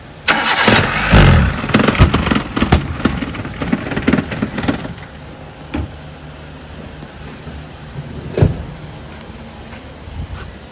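A car engine cranks in a run of rapid, loud bursts during the first few seconds and then fails to catch, leaving quieter thumps and one more brief sharp burst later; a wiring fault is suspected.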